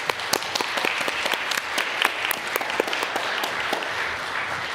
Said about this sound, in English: let's applaud them out